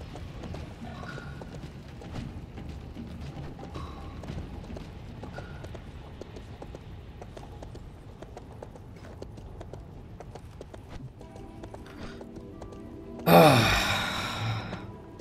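A horse mount gallops in the RIFT online role-playing game, its steady rhythmic hoofbeats running over a soft game ambience, with a sudden louder burst near the end.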